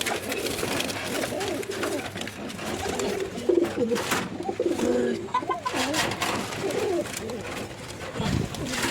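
Pigeons coo repeatedly amid a busy, noisy background, with some voices talking nearby.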